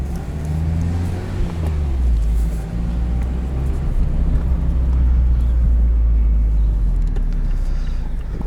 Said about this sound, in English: this is not where this car is designed to be used on these bumpy roads